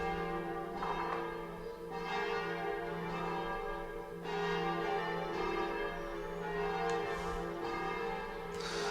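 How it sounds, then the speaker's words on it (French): Church bells ring from a nearby church, a steady, resonant peal of repeated strokes that holds through the whole stretch at moderate, somewhat distant volume with no talking. "il y a des cloches. J'habite à côté d'une église, donc ce n'est pas les cloches du jeu."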